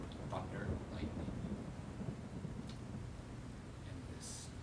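Thunder rolls through an ocean storm with rain, a low rumbling that swells and fades over a few seconds at a distance, with faint crackles on top.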